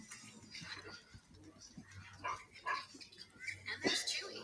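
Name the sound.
dog barking in an advertisement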